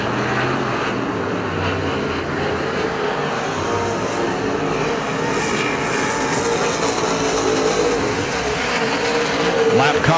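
Super stock race cars roar steadily around the dirt oval at Perris Auto Speedway in California, a continuous loud engine drone with the pack passing throughout, no talk.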